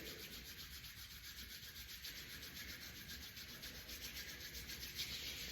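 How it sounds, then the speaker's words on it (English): Palms of the hands are rubbed together steadily, giving a continuous soft, dry swishing hiss that is close but very faint, with no voices. "We're going to rub the whole palm. We're going to rub a bit faster."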